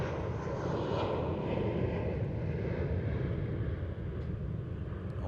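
Embraer KC-390 military transport flying an airshow display at Farnborough, a loud, steady broadband jet roar heard continuously throughout, with no talking.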